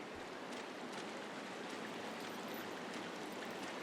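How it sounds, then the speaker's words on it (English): Water rushes steadily in a river being waded through in the game Firewatch, a quiet continuous hiss of flowing stream with faint splashy texture, no voices. "Just gonna walk through the river."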